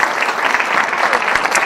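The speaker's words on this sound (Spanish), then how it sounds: "les pedimos un fuerte aplauso para todos y" A crowd at a book presentation gives a short, steady burst of applause, a dense, even patter of many hands clapping close by with no speech over it.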